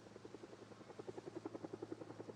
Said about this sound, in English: Oh, I hear the helicopter.